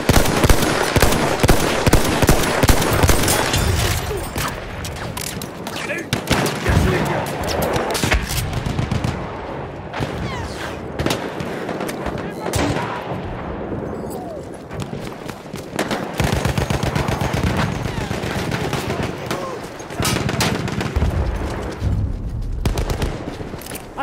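Machine gun fire in Battlefield 1 at Fort De Vaux, long rapid bursts and scattered rifle shots on a loud, dense battlefield, with near and distant gunfire overlapping almost without pause.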